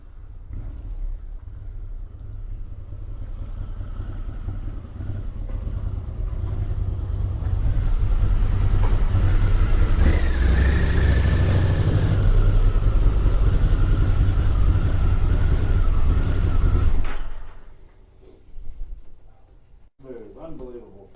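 A Harley-Davidson V-Rod motorcycle on a test ride along a smooth bypass after a wheel-balancing fix, its engine droning steadily with heavy wind rush that swells louder midway, then drops away near the end.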